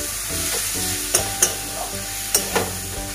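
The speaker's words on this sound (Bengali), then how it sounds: "তাহলে নুন কাশ্মীরি লঙ্কার গুঁড়ো আর চিংড়ি মাছ দিয়ে একটু কষিয়ে নিই" Shrimp sautéing in a pan with salt and Kashmiri chili powder gives a steady sizzle, with a few sharp spatula clicks against the pan rising above it.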